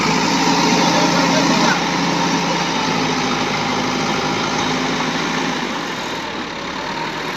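A tractor hitched to a 12-foot trolley idles loud and close, its engine a dense, continuous rumble that eases slightly toward the end while someone talks over it.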